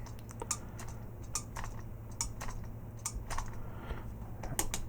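Ratcheted shoulder joints on a Marvel Legends Thing action figure click as they are rotated, giving a scattered series of small, sharp, close ticks over a quiet background.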